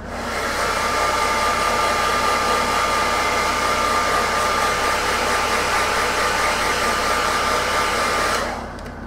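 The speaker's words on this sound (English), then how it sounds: "So, hairdryer once again." A hair dryer blows steadily at close range over a painted Knight Armiger miniature, a continuous loud whirring rush that runs for several seconds before cutting off abruptly near the end.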